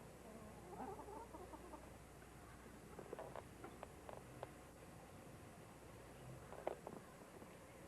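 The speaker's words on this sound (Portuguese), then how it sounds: "Esse galo é o mais guloso que existe, sabe?" A large, greedy rooster clucks softly in short bursts while eating, with faint background noise and scattered pecking sounds.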